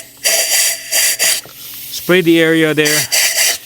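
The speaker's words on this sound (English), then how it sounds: "just spray the area so that way there's no dust or any dirt that's gonna fall off" Short bursts of hissing compressed air are sprayed around an Acura MDX engine's spark plugs in quick pulses, close and loud, with a person briefly speaking between them.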